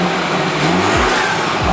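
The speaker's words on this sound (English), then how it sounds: "this is what the 330 sounds like before the MST intake." BMW 330i F30 with the B48 engine and stock intake revving, a mid-pitched engine with two quick throttle blips rising and falling over a steady idle.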